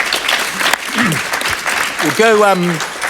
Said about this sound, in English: round of applause here in the studio for that